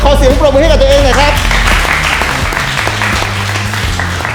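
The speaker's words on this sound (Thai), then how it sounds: "ขอเสียงปรบมือให้กับตัวเองหน่อยครับ" Applause from contestants at a tattoo competition, a dense, sustained clapping crowd filling the whole stretch, with a voice talking over the start.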